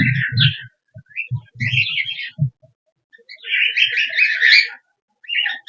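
Pet birds, weakened by hot weather, chirp and tweet in short repeated bursts close by, with brief pauses between calls and a few soft low thumps mixed in.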